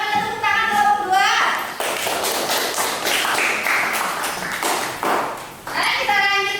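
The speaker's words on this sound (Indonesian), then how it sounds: "Silakan kita tepuk tangan kelompok 2" A class of children claps together in a dense patter of hands, with children's voices and chatter heard at the start and end.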